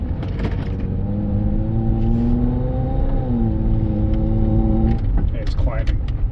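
A car accelerating with an ignition misfire on cylinder 4, with a steady engine drone whose pitch holds and rises slightly before dropping off, heard from inside the cabin, loud and continuous.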